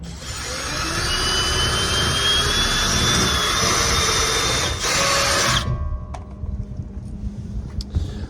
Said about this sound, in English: just hold the ladder up slightly while you drill